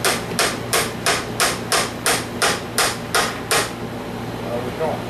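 A small flat hammer strikes in a steady rhythm, about ten sharp, loud metallic taps spaced roughly half a second apart, then stops, leaving a low hum.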